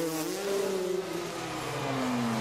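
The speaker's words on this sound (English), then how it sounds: "A bit of a rev there." A freestyle motocross bike engine at an X Games event revs with a rising and falling whine, sustained and fairly loud against broad crowd and arena noise.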